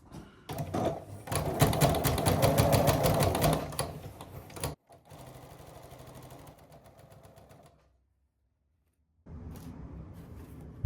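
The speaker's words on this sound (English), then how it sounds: "Here we go, sewing 1/4 of an inch from the edge." A home sewing machine stitches a shirt sleeve a quarter inch from the fabric edge, running in fast rhythmic bursts that speed up, slow, stop for a quiet gap, then start again, close and clear without talk.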